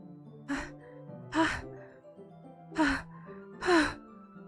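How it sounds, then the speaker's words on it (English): Four sharp breathy inhales in a quiet hallway in the visual novel game Doki Doki Literature Club, each a short gasp over soft sustained background tones, spaced about a second apart. "A sharp inhale like someone sucking in the air through their teeth."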